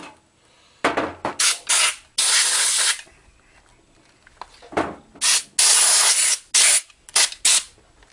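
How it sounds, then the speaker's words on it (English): Compressed air blows debris off a chainsaw around the gas and oil areas, with loud, sharp hissing bursts of varying length, some short and choppy and others held for about a second, separated by quiet gaps. "Just anywhere you can get your air into, blow it all off."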